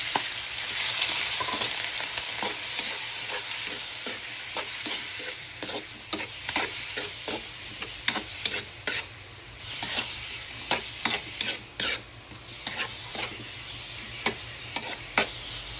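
Chopped onion and meat sizzle loudly in a hot oiled pan, a steady frying hiss broken by sharp clicks and scrapes of stirring, with no talking.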